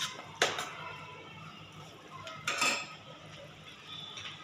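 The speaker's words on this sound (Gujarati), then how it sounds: "રવો સરસ બની જાય ત્યાં સુધી હલાવીશું" Semolina stirred in ghee in a pan, a spoon scraping and clinking against the metal in two distinct knocks with soft scraping between, alone without talk.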